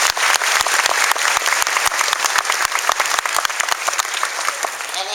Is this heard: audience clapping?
yes